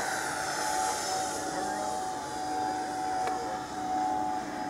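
A Freewing F-86 Sabre RC jet flies overhead on its maiden flight in Largo, Florida, a continuous airy whine with a thin, steady tone, rising and easing slightly as it passes at moderate distance.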